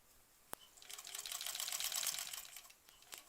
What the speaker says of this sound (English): now I'm going over both of the hems right now.